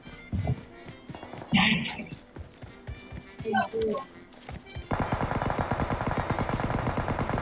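Rapid automatic gunfire in the mobile battle-royale game PUBG Mobile, a fast steady burst filling the last few seconds, after scattered footsteps, clip-clops and voices talking.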